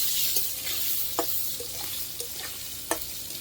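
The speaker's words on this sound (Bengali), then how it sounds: "আলুগুলো একটু ভাজা হোক" Potatoes frying in leftover fish-frying oil, giving a steady, close sizzle punctuated by several sharp clicks and taps of a spatula turning them in the pan, with no voices.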